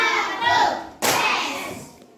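Children in a classroom ice-breaking clap game give one sharp, loud clap right after a spoken call, the burst ringing out and fading over the next second.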